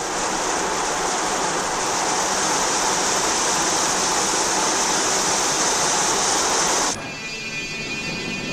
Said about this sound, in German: wird die Karosserie unter einer Duschanlage auf Wasserdichtheit geprüft